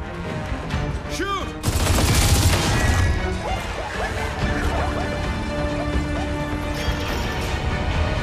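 Gunfire and crashing in the video game Gears of War 4, a loud, dense barrage that runs continuously through the whole stretch.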